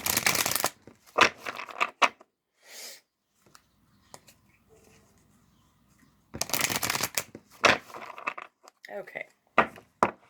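A Kitsune Foxfire oracle card deck is shuffled in close, crisp riffling bursts, one at the start and another longer run later, separated by quiet pauses with soft breathing and small handling noises.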